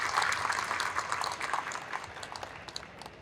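Applause from the audience at a women in screen printing and wide format awards ceremony, a moderate burst of clapping that gradually thins and fades over a few seconds.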